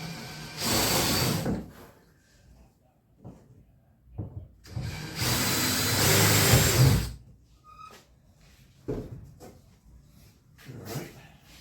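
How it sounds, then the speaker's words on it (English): A power drill drives fasteners into place during a Mini-Max 1030T aircraft build: two sustained whirring bursts of about two and three seconds, separated by quiet gaps with small knocks and clicks, moderately close. "we'll go ahead and drill these things in place."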